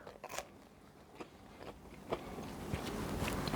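Crisp bites and chewing into crunchy pizza topped with American cheese, a series of sharp close crunches scattered across a few seconds with no talking.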